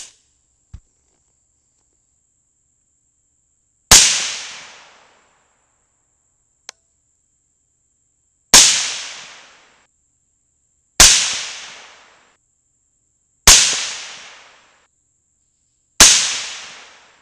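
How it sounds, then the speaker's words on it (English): Single 300 Blackout rifle shots firing 125-grain supersonic loads during a primer test outdoors, five sharp loud cracks spaced a few seconds apart, each trailing off in a short decay, with silence between and no talk. "I did just shoot a group of five shots just a second ago to get the gun warmed up"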